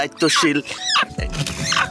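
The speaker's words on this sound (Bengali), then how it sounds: "এগুলো হচ্ছে চীনা হাঁসের বাচ্চা" Chinese duck ducklings on a rooftop let out a few thin, high peeps, mixed in under a person talking close by.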